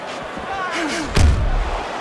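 A heavy punch lands in a Fight Night Champion boxing match between Vitali Klitschko and Ezzard Charles, a single loud, deep thud with crowd noise and commentary running around it.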